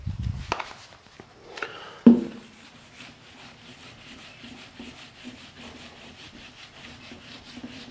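Scraping and rubbing strokes across a board surface, with a few louder scuffs and a sharp knock early, then quieter continuous rubbing.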